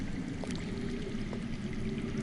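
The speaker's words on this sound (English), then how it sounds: "I hear water. From underground." Underground water flows in the Game of Thrones game, a steady pouring rush filling the scene continuously and fairly loud, with no voices over it.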